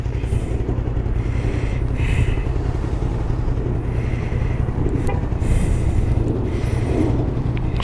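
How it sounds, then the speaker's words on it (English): A motorcycle engine idling after a crash on the road, a steady loud rumbling drone with wind buffeting the microphone, close and continuous, with no voices. "So now I'm gonna try and start the bike. Bike starts up wonderfully."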